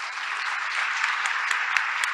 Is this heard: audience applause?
yes